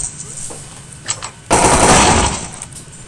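Burst of rapid gunfire from the SuperFighters video game, a loud sustained rattle of shots kicking in midway and running about a second before tapering off, with a few fainter game sounds earlier.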